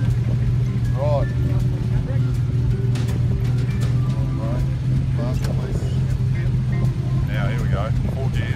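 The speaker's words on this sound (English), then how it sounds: "it's actually a push start, believe it or not. 1958 push start." A 1958 Jaguar XK150 engine runs steadily after a push start, a loud constant low rumble filling the whole stretch while someone talks over it.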